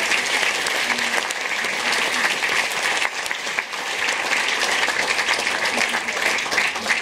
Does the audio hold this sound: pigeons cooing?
no